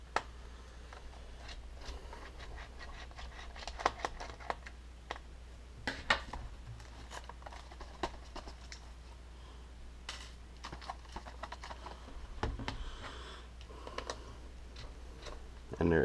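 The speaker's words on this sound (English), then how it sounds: "give me just 1 moment here while I finish taking out these screws." Screws being removed from a Lenovo IdeaPad y510p laptop, heard as scattered small ticks and clicks at an uneven pace over a low steady hum, close and fairly quiet.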